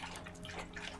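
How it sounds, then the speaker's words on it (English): A dog laps drinking water with quick, soft wet splashes and slurps in a steady stream, faint and close, with no voices. "this is the song of the dog drinking water."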